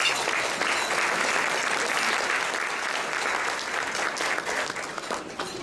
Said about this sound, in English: That'll be all the applause Frank needs the entire evening.